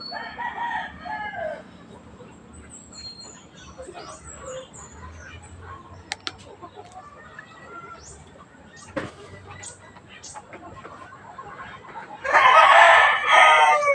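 A Rhode Island Red hen clucks at the start, then quiet farmyard ambience with small clicks, before loud squawking and cackling erupts close by at the end.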